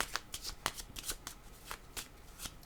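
A deck of playing cards is shuffled near and distinct, with a quick run of crisp riffles and card-snapping flicks in an irregular rhythm, heard alone without any voices.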